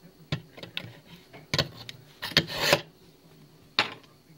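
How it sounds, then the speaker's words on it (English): A knife drawn through the groove of a handheld knife sharpener, several short dry rasping scrapes in irregular strokes, close and clear with quiet gaps between them. "You just slide your knife through it,"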